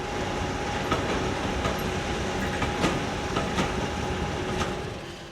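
A British Rail Class 50 diesel locomotive hauls a passenger train on the preserved Severn Valley Railway, a steady close rumble broken by regular clickety-clack wheel beats over the rail joints.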